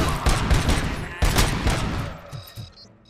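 Rapid bursts of gunfire from the video game Robocop: Rogue City, loud and close, with two clusters of shots separated by a brief pause, the second trailing off into fainter pops.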